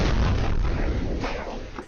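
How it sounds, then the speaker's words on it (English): A propane tank leak sets off a box truck explosion as it passes through a suburban neighborhood, picked up by a doorbell camera: a single massive, distorted roaring blast fills the whole moment, then a rumbling decay with no voices. "box truck erupts in loud explosion"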